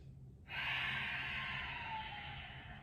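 One long, deep inhale through the nose during a yoga breathing exercise, a steady airy rush close to the mic that starts abruptly and slowly tapers off.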